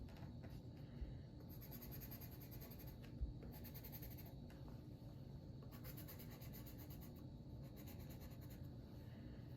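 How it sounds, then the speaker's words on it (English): Green colored pencil rubbing steadily across paper while coloring in arm bones on a skeleton sheet, a soft continuous scratchy scribble with brief pauses, close and quiet. "pick up your green colored pencil. We will color the arm bones green."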